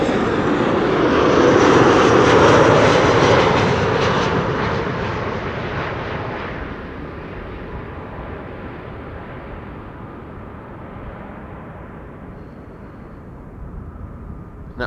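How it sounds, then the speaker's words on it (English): A Delta Air Lines Airbus A330 taxis at an airport, its engine roar swelling loudly at first, then fading steadily into a distant rumble as it rolls away. "That was a Delta A330 on the move, on the left, in the background."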